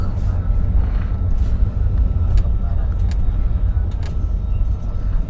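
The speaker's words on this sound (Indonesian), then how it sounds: "Nah ini kita sekarang udah masuk di terminal bus Tanjung Priok" Ambience inside the Tanjung Priok bus terminal, with a steady low rumble of idling and passing buses and traffic, scattered clanks, and indistinct voices under it.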